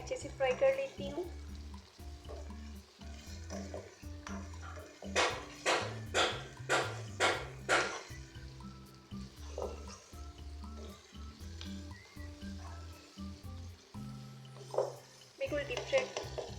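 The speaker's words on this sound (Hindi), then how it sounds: "इनको भी मैं अच्छे से फ्राई कर लेती हूँ।" Chicken with ginger-garlic paste, tomatoes and green chillies frying in a karahi, giving a steady close sizzle with a burst of louder, crackling stirring partway through.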